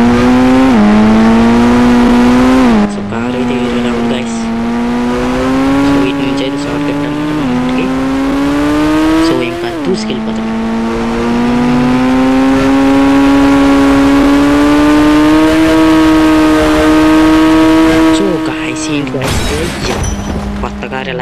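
A car engine in the Indian Bike Driving 3D video game revs loudly and steadily, its pitch climbing and dipping through several gear changes over about twenty seconds, close and constant.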